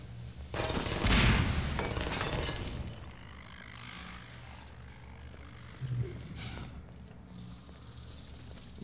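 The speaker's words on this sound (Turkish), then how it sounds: "Cam kırılıyor arkadaşlar sanırım." Glass shattering in Half-Life 2: a burst of crashing, shattering noise with bright splintering bursts, then quieter crackling and a softer thump later on.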